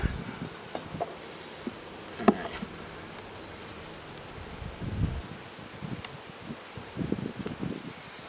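Honeybees hum softly and steadily around an open hive during an inspection, with occasional louder buzzes as individual bees pass close, plus faint clicks and rustles.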